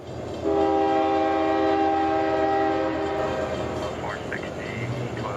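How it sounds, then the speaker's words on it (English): A loaded ethanol tank train pulled by a single KCS locomotive, its horn sounding a long, loud sustained blast before fading into rolling rail noise with a faint whistle-like squeal. "this is a loaded train of ethanol tanks being pulled by one engine"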